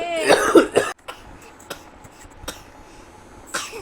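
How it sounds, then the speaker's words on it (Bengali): A cluster of three or four short, close coughs bursts out at the start in a home with a baby, followed by near quiet with only faint clicks and a small rustle near the end. "দেখলে সত্যি সত্যি কাশি হচ্ছে"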